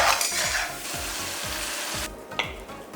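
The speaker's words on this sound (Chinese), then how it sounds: "再来勾一点芡，翻炒均匀就可以出锅啦" Shredded bamboo shoots and garlic chive flowers stir-fry in a wok, with a loud, dense sizzle and rhythmic scraping tosses about every half second, close up and with no voices.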